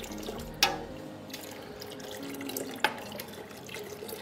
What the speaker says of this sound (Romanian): O să turnăm zeama de lămâie.